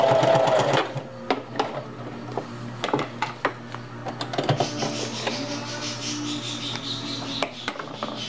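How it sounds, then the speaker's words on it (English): A sewing machine stitches elastic into the seam allowance of a cloth pocket diaper, running in short close bursts with brief pauses and tacking stops, with no voices. "I'm going to sew that on. I'm going to put it in the seam allowance."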